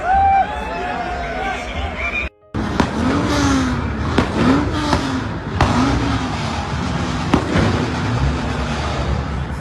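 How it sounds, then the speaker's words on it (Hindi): Cars parked in a parking lot in Canada at night rev their engines, with sharp exhaust silencer pops and bangs over a continuous engine roar and background crowd chatter. "लोग अपनी गाड़ी पार्किंग में पार्क करके वहाँ अपने जो साइलेंसर्स होते हैं साइलेंसर से आवाज निकालते हैं"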